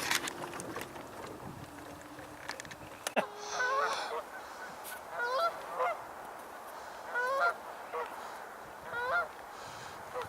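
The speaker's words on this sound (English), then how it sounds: "the geese and the mallards." Geese honk repeatedly at a moderate distance, in short bursts of calls every second or two, over quiet outdoor ambience with a few soft knocks early on; mallards are also nearby.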